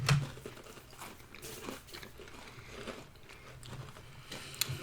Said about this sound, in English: So if you're listening to this, it's a lot of crunching right now.